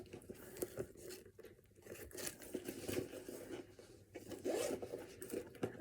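A zipper pulled along a pocket of a Michael Kors bag, close and quiet rasping runs with rustling and handling of the bag between pulls.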